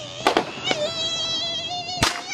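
A big Fourth of July fountain firework sprays with a sustained hissing, crackling whine, broken by a few sharp pops and bangs near the start and end.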